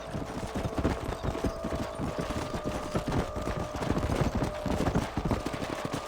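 Horse hooves pound in a fast, continuous galloping rhythm, loud and close, over a droning background, in the video game Red Dead Redemption.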